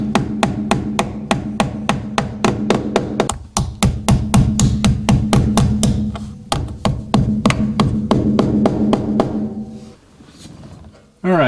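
Hammer driving nails to fasten wire-on windlace on a 1948 Chevy, a loud, rapid, steady run of close metallic blows with a brief pause partway through, then a final strike after a short lull.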